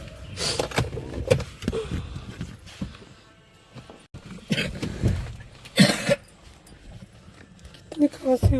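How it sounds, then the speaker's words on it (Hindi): Someone coughs several times in a smoky, foggy home while cooking, with sharp bursts scattered among kitchen clatter and people talking nearby. "कितनी खांसी हो रही है।"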